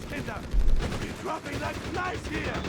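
In the Company of Heroes 3 video game, a .30 cal machine gun fires rapid bursts at close range, heard under an excited commentator talking throughout.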